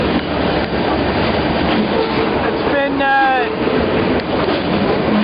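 Riding aboard a moving freight train while train-hopping: a loud, steady rumble of rolling wagons with a brief squealing screech of wheels partway through, and someone speaking over the noise.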